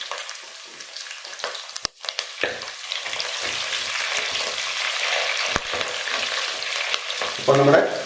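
Green chillies for gooseberry pickle fry in hot oil with a steady bright sizzle, broken by a few stirring scrapes, and a louder crackling burst near the end.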